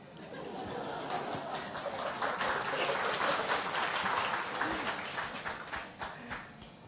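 An audience claps warmly after a love song at a live show, with sharp clapping swelling to a peak in the middle and thinning toward the end, mixed with murmuring, chatter and light laughter.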